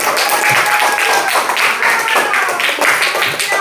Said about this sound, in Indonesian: Tepuk tangan semua anak-anak.